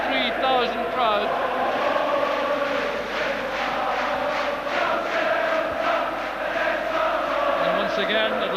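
A 53,000-strong crowd of Celtic supporters chants, sings and cheers in a stadium, a dense, continuous roar of massed voices with rhythmic swells throughout.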